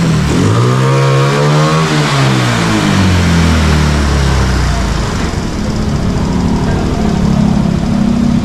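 A motorcycle engine fitted with a flat slide carburetor revs hard on a test drive, pitch sweeping up and down in a couple of throttle blips before settling into a loud, sustained run with heavy wind noise.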